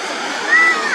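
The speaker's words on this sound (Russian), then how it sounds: "О, ты посмотри, какой у нас там фонтанище." Zoo fountain in Kharkiv, a large jet of water splashing and roaring continuously, loud and close, filling the whole short moment.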